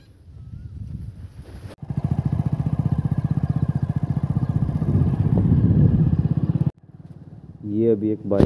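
A motorcycle riding along a village road toward home, its engine running with a steady rapid throb close by, rising slightly in intensity before cutting out, followed by a short burst of speech.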